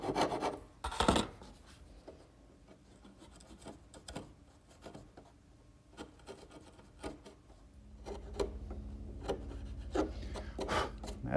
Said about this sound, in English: then I'll use a sharp chisel to remove the rest of the material